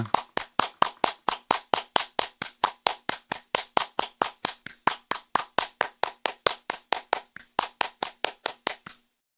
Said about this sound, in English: Keep clapping. Don't stop.